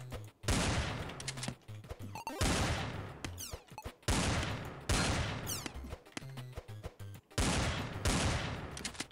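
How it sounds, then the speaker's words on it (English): Big magnum hand cannon revolver in a video game, firing loud booming shots in repeated bursts, each followed by a decaying rumble and clatter, with short pauses and quieter game bleeps between them. "Some sort of, I don't know, revolver, magnum, some sort of big old hand cannon."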